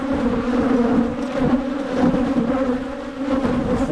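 Honey bees drone steadily from an opened hive in January, a dense, continuous close buzz with no other sounds.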